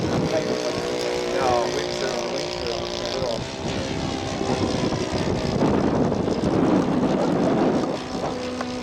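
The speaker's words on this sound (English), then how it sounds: "Bob Bailey is off with his Ryan ST." A scale model Ryan ST aircraft flies in strong wind at an outdoor scale aircraft show, its engine a continuous buzzing drone mixed with heavy wind buffeting and people talking nearby.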